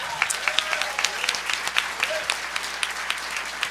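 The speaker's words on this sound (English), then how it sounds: "I'd like to just get a big round of applause for them." An audience at a company employee Christmas show applauds the building and grounds crew, sharp distinct claps standing out over a softer steady clapping bed, with a faint tonal sound sliding through the background.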